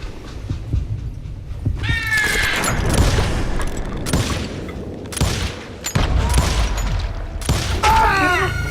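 Bursts of rapid gunfire and booming shots from the game Call of Juarez, several volleys separated by short gaps, loud and sharp.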